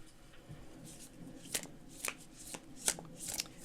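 Tarot cards are shuffled by hand, giving a run of quiet riffling and several sharp close-up snaps of cards falling together, with no talk.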